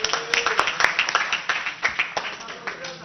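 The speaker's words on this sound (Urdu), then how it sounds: "ملک صاحب کے لیے تالیاں" Clapping from an audience in a legislative house session, given for a speaker named Malik, a quick uneven patter of many hands at moderate distance, with some voices mixed in.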